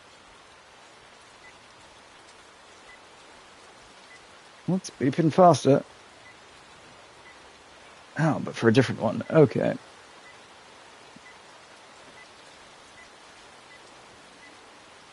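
Rain falls steadily on the ground in Lushfoil Photography Sim's East Maddon Park, Northern England, as a soft, constant hiss that runs through the whole stretch, with two short bursts of talk over it.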